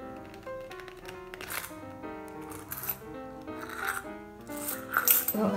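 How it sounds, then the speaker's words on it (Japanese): Loose coins clinking and rattling as they slide out of an Italian handmade seamless Il Bussetto leather coin case, a close series of small metallic taps and jingles with no talk. "小銭が出てきますね"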